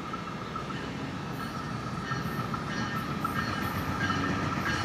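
A northbound train rolls past a railfanning spot in Hialeah, a faint, continuous rumble of wheels on rails with light squeals and clatter, distant and steady throughout with no voices.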